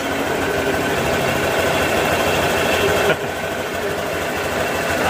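A Honda Vario 125i / Click 125i scooter engine runs with a steady, loud, close idle hum and a slight dip partway through, fitted with a CVT cover.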